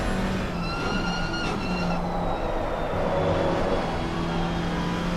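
GT4 race car engine heard from onboard during a lap of the Valencia circuit, a steady loud drone with harmonic whine shifting slightly in pitch, continuous and close with no talking.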